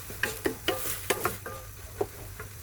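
Instant noodles stir-fried with egg and vegetables in a pan, with a spatula scraping and tapping at an irregular rhythm over a steady close sizzle.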